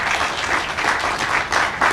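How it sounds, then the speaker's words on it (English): Audience applause at an outdoor groundbreaking ceremony, steady dense clapping from a crowd throughout the short stretch with no talk over it. "Can we give him a round of applause?"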